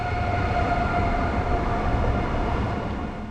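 A high-speed train on the Istanbul to Ankara line in Turkey running at up to 250 km/h, giving a steady loud rumble with a faint tonal whine through the whole stretch and no voices.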